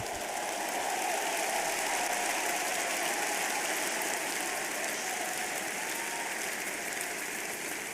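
A church congregation claps in praise with dense, sustained applause that holds at an even level throughout, with no voices standing out.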